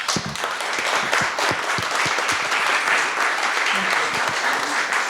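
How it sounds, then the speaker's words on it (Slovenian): An audience applauds a conference panel with vigorous, sustained clapping. Individual sharp claps stand out against the dense roar, which stays loud and steady throughout, with some voices mixed in. "Jaz mislim, da si najprej naš panel zasluži en aplavz."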